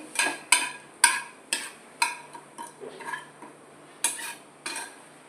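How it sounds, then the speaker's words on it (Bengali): A spoon stirs asafoetida and a dried red chilli in a pan for chana kofta curry, sharp metallic scrapes and clinks in an irregular rhythm of roughly ten strokes, close and distinct, with no talking. "এটাকে দিয়ে আগে একটু ভালো করে নেড়ে নিতে হবে।"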